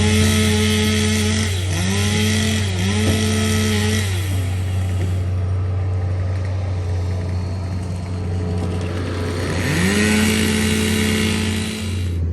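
Skid steer clearing storm debris in Dawson, Kentucky, a loud steady diesel engine drone with rising and falling revs as the machine works, close and continuous with no talk.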